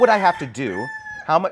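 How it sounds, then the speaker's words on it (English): A rooster crows on a rainy day, its call drawn out behind a voice as he talks over it, loud and nearby. "Are you hearing the rooster crowing?"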